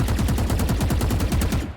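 Rapid automatic gunfire from a Valorant match, a tight burst of evenly spaced shots fired while moving, loud and close, ending abruptly.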